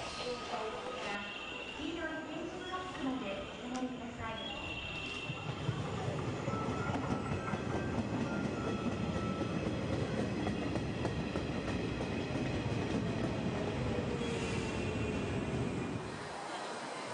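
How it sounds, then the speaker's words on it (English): A local train rides back toward Okayama, Japan, with a steady rumbling roll and faint clickety-clack that builds midway and holds, sounding from inside the carriage with no talk. "we caught the local train back to Okayama."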